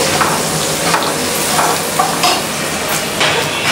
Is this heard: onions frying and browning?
yes